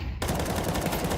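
A rapid burst of automatic gunfire sprays continuously in the Counter-Strike game during a pro match, loud and dense after a brief quiet start, lasting about a second.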